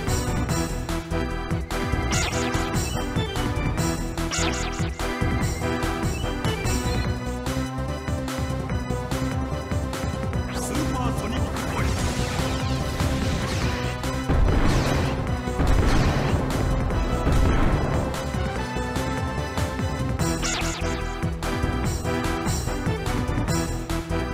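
Fire Blast attack in the Digimon World 2 video game, a loud dense stretch of game sound effects with repeated crashing hits and bursts over music, continuous throughout with no talk.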